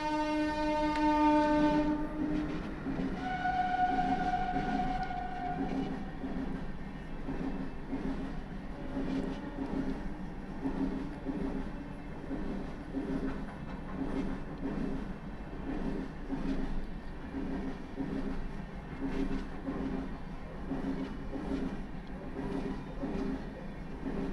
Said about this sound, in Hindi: ट्रेन जा रहा है